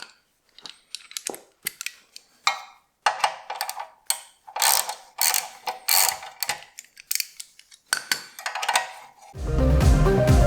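Bolts holding the exhaust hanger on a fairly new 2021 Triumph Street Triple RS are loosened with a ratchet, giving bursts of close, sharp clicking and metallic rasping with short pauses between, ending in a louder, rougher scrape.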